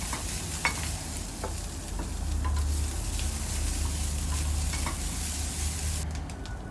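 One cup of grated coconut roasts in hot oil over a medium flame for Kerala-style ulli theeyal, giving a continuous soft sizzle with occasional stirring clicks, close and fairly quiet.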